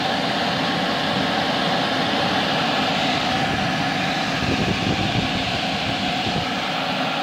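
A Vivosun 6-inch inline fan with speed control running at medium speed, a steady loud broadband whoosh with a low hum underneath, constant throughout with no talking.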